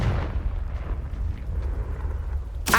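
A Confringo fire spell bursts in Hogwarts Legacy with a deep rumbling blast that rolls on under low noise, followed by a sharp bright crack right at the end.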